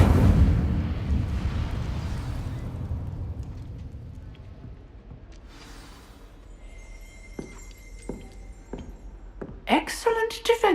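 The Incendio fire spell in Hogwarts Legacy bursts out as a loud, deep roaring whoosh that fades over several seconds, followed later by scattered sharp magical impacts and crackles.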